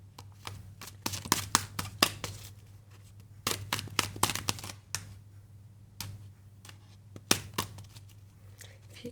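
Playing cards being shuffled by hand, riffled repeatedly, give bursts of crisp, close flutter and snapping separated by short pauses, over a steady low hum.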